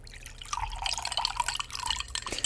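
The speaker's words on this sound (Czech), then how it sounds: "Rovnou z kohoutku pijem." A video game sound effect of water running straight from a tap while someone drinks: a fast, uneven patter of drips and splashes, close and moderately loud, with no voices.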